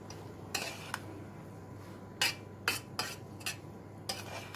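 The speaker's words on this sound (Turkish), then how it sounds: "2 su bardağı bulgurumuzu döküyorum. Bir karıştırıyorum." Spoon stirring dry bulgur in a pot for lentil köfte, heard as a few separate light scraping knocks, close and fairly faint, with a low steady hum underneath.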